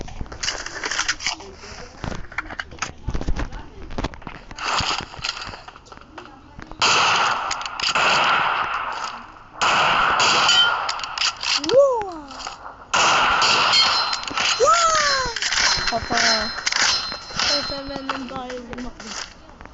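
Gunfire from the mobile battle-royale game PUBG Mobile, bursts of sharp shots scattered through a busy, loud game soundtrack with voices and other in-game effects layered over it.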